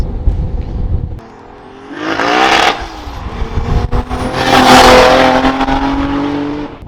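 A Scion FR-S swapped with a 2JZ engine revs hard and roars past in a flyby, two loud surges of engine noise with a quieter lull between them, the second pass rising and fading away.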